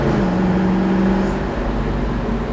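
A 1966 Chevrolet Chevelle SS with a 396 engine pulls away under acceleration, heard from inside as a steady, fairly loud low engine roar that eases off slightly toward the end, with no talking.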